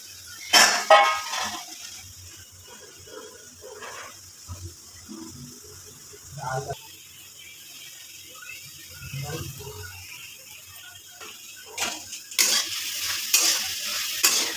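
Prawns with turmeric and salt being stirred in a hot frying wok, with a close sizzle and repeated scraping strokes of a spatula, loudest at the start and again near the end, while a voice talks between them.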